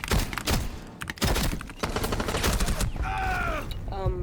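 Bursts of rapid gunfire from the tactical shooter Rainbow Six Siege, sharp repeated shots packed into quick volleys, followed by brief electronic game sounds, loud and close with no talk over them.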